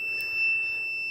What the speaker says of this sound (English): as you can hear, the inverter's beeping indicates low voltage